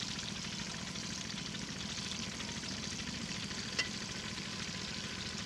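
Onions frying in oil until golden, a steady, dense sizzle that holds evenly throughout, close and alone with no talk and a single faint clink near the end.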